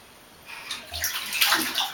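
A child splashes water in a bathtub, soft sloshing and splashes rising after a quiet start, close and fairly faint, with no talking.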